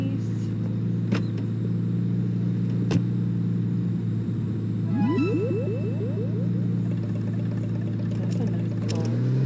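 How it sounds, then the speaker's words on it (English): A car drives in The Sims video game, giving a steady low engine rumble with a few sharp clicks and a rising whirring sweep partway through. "That's a nice car."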